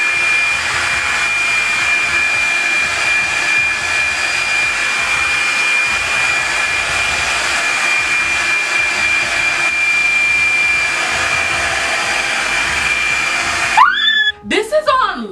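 A Revlon One-Step hair dryer and styler runs on low heat, a steady loud whooshing blow held for about fourteen seconds before it cuts off abruptly near the end.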